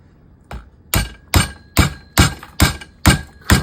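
A hammer strikes the casing of a power adapter being broken open for copper, eight sharp, evenly spaced blows growing slightly louder, close up and without talk.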